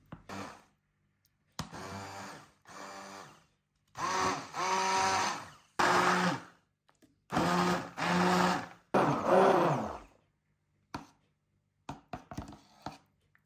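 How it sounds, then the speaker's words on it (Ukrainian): A kitchen blender purees pumpkin soup with cooked potato and carrot, running in several loud whirring bursts separated by short pauses, closing with a few brief pulses. "загружаємо наш блендер."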